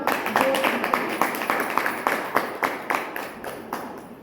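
Listeners at an Ayurveda health session give a round of applause, scattered hand claps in an uneven rhythm that fade slightly toward the end, with faint voices underneath.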